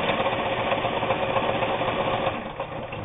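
A Kenmore 158.19802 Japanese-made sewing machine stitching two layers of garment leather hums and chatters with a steady mechanical whir that eases slightly near the end.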